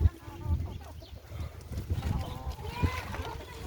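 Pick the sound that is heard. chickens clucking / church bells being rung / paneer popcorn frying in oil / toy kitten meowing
chickens clucking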